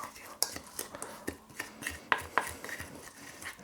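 Sugar being stirred into a sauce for a squid stir fry, a run of light scraping and clinking taps of a utensil against a bowl, fairly quiet and close, with no talking.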